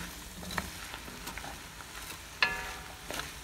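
Potatoes being stirred in a Dutch oven for Portuguese caldo verde: a soft, steady sizzle with scattered light scrapes and one sharper clink of a utensil against the pot, close and quiet, with no talking.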